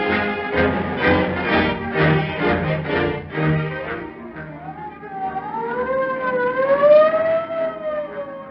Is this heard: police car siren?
yes